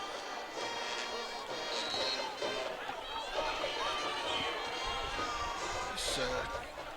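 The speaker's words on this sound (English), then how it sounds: "home crowd here at Rustin, pretty impressive" Home crowd in the stands at a high school football game at Rustin, a steady roar of chatter and cheering with a play-by-play voice talking over it throughout.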